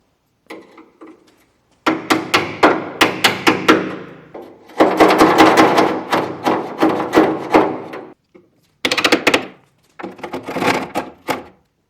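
Hammer blows bending over the flap of a new door skin on a BMW 2002, bursts of rapid metallic tapping in close, loud clusters separated by short pauses.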